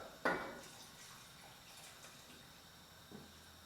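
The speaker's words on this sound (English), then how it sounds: "just going to go in with half a pint of water" Half a pint of water lands in a pot of beef bourguignon with one short splash, then a faint trickle and quiet bubbling fade, close and alone.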